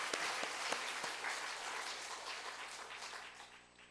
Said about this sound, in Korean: 박수 한 번만 더